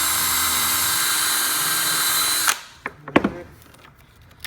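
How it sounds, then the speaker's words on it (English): A power drill whines loudly and steadily while widening a hole for a headlight wire gland on a G35 Coupe, then cuts off, followed by a few handling knocks and taps. "Nope, more drilling,"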